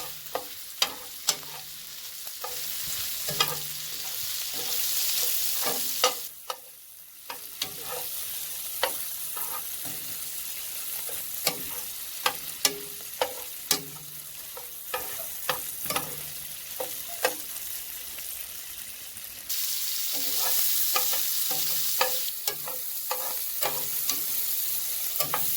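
Shrimp frying in a pan for a Jamaican homemade shrimp pasta, a steady sizzle broken by repeated scraping stirs and clinks of the utensil, close and fairly loud with no talking.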